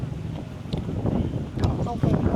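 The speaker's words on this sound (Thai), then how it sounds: "ลมมันแรง" Strong wind buffets the microphone at Jomtien Beach in Pattaya, a steady blustery roar that rises and falls throughout, with people talking nearby under it.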